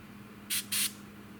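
LP11 aluminum lacquer paint is sprayed onto a Tamiya P-47M model kit part in two short, sharp hissing bursts close by, over a quiet background hum.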